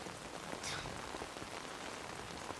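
Steady rain falls on a surface outdoors, a continuous dense patter with scattered individual drops, moderately loud and unbroken, with no voices.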